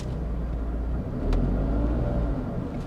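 A car engine rumbles and briefly revs as the car accelerates over a speed breaker, a low steady drone that swells in the middle, with no talking.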